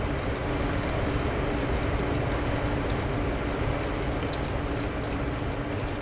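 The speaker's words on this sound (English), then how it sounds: "I'm going to slowly stream in our mixture as I'm whisking" Egg mixture streamed into hot soup while being whisked, giving a steady broadband hiss and patter of liquid with continuous stirring, fairly even and close throughout without any talking.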